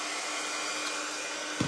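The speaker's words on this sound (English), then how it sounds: "I'm gonna have to get me an adjustable temperature heat gun because this one is either medium or high" A single-setting heat gun, either medium or high, blows steadily to dry a Valentine's Day wreath attachment from a DIY kit. The hiss is continuous and airy, and a soft knock comes near the end.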